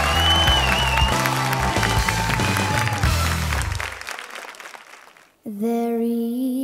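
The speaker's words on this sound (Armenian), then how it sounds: "դիմավորեք շատ բարձր ծափարություններով" Loud audience applause and cheering at a televised talent show for children fill the hall over music, fading away before a young girl starts singing.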